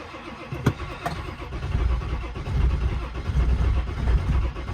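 A 7.3 diesel engine cold starts in snowy weather: a brief cranking burst, then the engine catches and rumbles roughly, rising and surging unevenly as it settles into a rough run.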